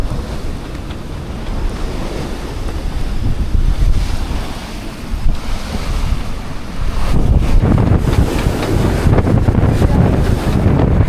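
Strong 35-knot wind roars across the microphone with breaking waves and surf at sea aboard a sailboat doing about 8 knots, a continuous loud rush that swells louder in the second half.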